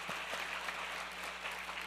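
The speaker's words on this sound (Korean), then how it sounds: "그 예수님께 큰 감사 박수 올려드리겠습니다" Faint, distant applause from a church congregation, a soft continuous patter of many hands under a low steady hum.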